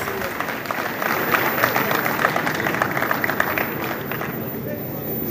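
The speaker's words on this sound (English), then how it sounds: "Please applaud yourself, celebrate yourselves." Farmers and guests applauding at a summit on sustainable food production in southwest Nigeria: a continuous, dense wash of clapping from a large hall crowd, with murmured voices mixed underneath.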